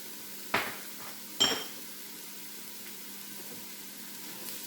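Onions cook down with a sprinkle of salt in a Ninja Foodi pot, a faint steady sizzle broken by two sharp metallic clanks of a utensil against the pan.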